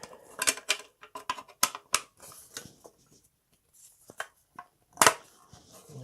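Plastic hull sections of a model battleship being pressed and clicked together, a series of small, sharp, close clicks and taps in an irregular rhythm with brief quiet gaps between them.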